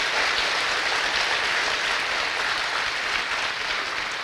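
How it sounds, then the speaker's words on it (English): A large audience at a fire academy graduation ceremony applauds following a national anthem performance, with loud, dense, sustained clapping that carries evenly through the whole stretch. "Can we give Mr. Walker another round of applause?"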